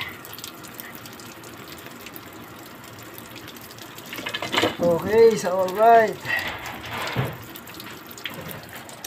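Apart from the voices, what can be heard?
water dripping from ice maker sink water line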